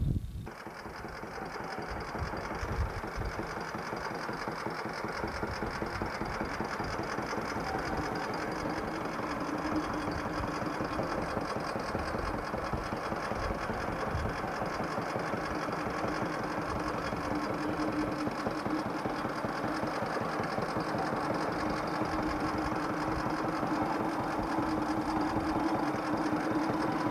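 Oil well pumping unit engine running in Oklahoma in 1989, a steady rhythmic mechanical chugging hum that continues unbroken for the whole stretch, moderately loud and without speech.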